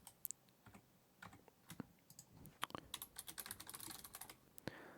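Quick bursts of keystrokes clatter on a computer keyboard, irregular taps and clicks close to the microphone, with a brief pause before faster typing.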